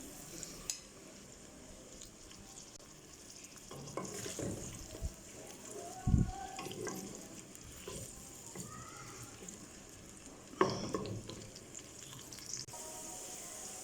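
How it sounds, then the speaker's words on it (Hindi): Onions frying in a pan for Pakistani methi gosht, a faint low sizzle broken by occasional stirring scrapes and clinks, heard close and alone without talk. "प्याज को ऐड करके इसको ब्राउन करेंगे।"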